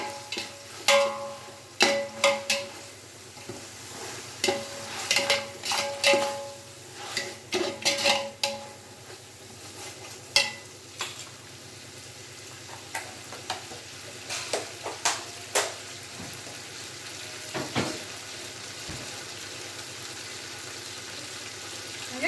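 Ginger garlic paste fries in hot oil in a pan. A steady low sizzle runs throughout, under repeated close scraping and clinking of a spoon stirring against the pan, with no voices.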